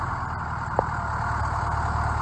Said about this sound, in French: petite vidéo sur le tracteur, un des plus vieux de l'exploitation